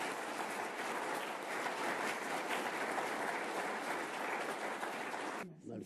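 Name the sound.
louder audience applause welcoming the parents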